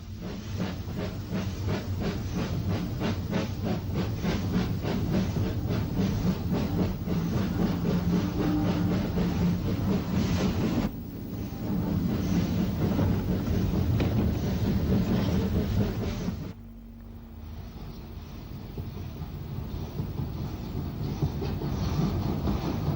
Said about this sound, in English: Alverstone, bursts out of the single-bore tunnel through St Boniface Downs and into Ventnor Station.